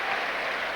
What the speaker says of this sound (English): But the crowd appreciate the work done there by Pat Nevin.